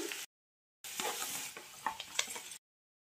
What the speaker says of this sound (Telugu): ఆయిల్ వేసుకుని తాలింపు పెట్టుకుందామండి